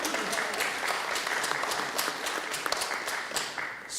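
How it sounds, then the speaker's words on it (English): Audience at a Fresno city council meeting breaks into applause, a lively, sustained patter of many hands clapping at moderate loudness, filling the room without pause, with no speech over it. "Let's give Sebastian a round of applause"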